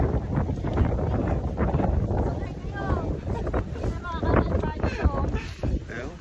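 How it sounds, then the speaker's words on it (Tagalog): Strong cold wind on the Akiki trail of Mt. Pulag roars and buffets the microphone in a loud continuous rush, while people talk and call out beneath it. "Sobrang lakas ng hangin."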